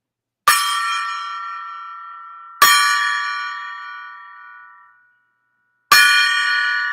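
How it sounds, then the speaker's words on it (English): A golden gong struck three times, each hit a bright metallic clang that rings out and slowly decays, the last one cut short, with no voices around it. "It's time to ring the golden gong."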